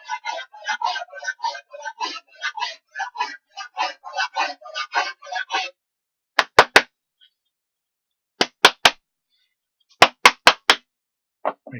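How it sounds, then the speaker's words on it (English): A person claps a sheet of sandpaper against a hard surface to knock the dust out while sanding a wooden camping chuckbox, first a long rhythmic run of quick slaps, then short separated bursts of sharp, loud claps. "I clap always on the thing, not because I have cold hands, but because I want to get the dust out of the sandpaper"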